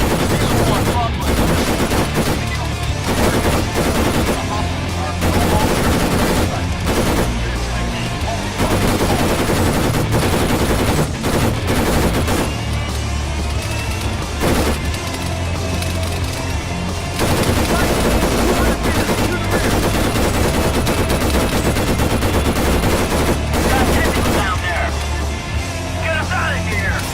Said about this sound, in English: Broadway, we're taking full on fire. We are returning fire.